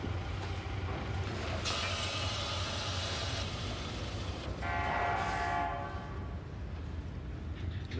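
An Australian National RoadRailer train rolls past with a steady broadband rumble of wheels and cars, a bright horn-like tone rising partway through, continuous and fairly loud throughout.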